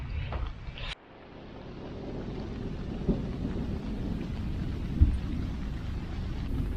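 Low rolling thunder rumbles steadily over rain at a campground in Coleman State Park, New Hampshire, with a sharp crack near the start and another brief jolt later; no voices.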